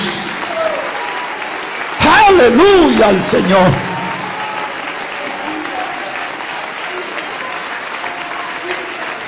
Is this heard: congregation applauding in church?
yes